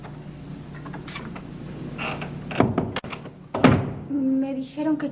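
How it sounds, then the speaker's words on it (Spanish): A door is shut indoors in a school setting, giving a couple of solid thuds with a brief knock, close by, amid faint room noise and voices. "Cierra la puerta."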